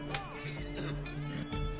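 Horse neighing in the video game Red Dead Redemption 2, a shrill whinny with falling harmonic sweeps over steady game background hum and occasional low thumps, heard alone without talk.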